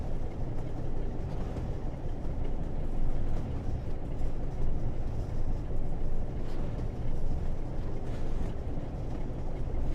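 Intercity class 47 diesel locomotive in Train Sim World 4, a steady low engine drone and rumble running continuously with faint rail noise, no voices.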